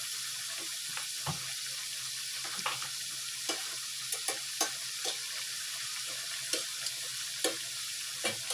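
Spiced potatoes in sweet soy sauce fry in a pan over medium heat, a soft steady sizzle broken by scattered clicks and taps of stirring or utensils, fairly quiet and close with no talk.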